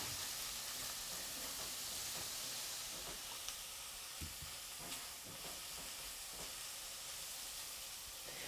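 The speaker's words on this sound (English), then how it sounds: "I'll put this in now with the leeks and give the potatoes a chance to start cooking" Potatoes and leeks cooking together in a pan for sorrel soup, a faint steady hissing sizzle throughout with occasional small soft clicks, quiet and even, no speech.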